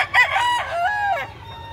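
A rooster gives a single loud, close crow with a rising then falling call, against low background murmur at a fowl market in Carbon, Cebu.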